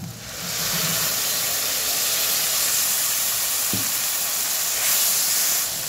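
A paste of ginger, cumin, garlic, dried chili and coriander fries in oil in a village-style Bengali kitchen, giving a loud, continuous close hiss and sizzle with one faint knock partway through.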